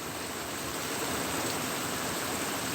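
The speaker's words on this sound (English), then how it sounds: "The rain is getting heavier" Heavy rain pours steadily during a severe thunderstorm in Kentucky, a dense, loud, continuous hiss with no pauses or voices.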